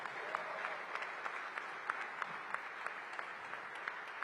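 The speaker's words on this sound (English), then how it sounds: "a round of applause for your Washington Wizards on a game day" Audience applause at an arena groundbreaking ceremony, faint and somewhat distant, a steady patter of clapping hands with scattered sharper claps throughout.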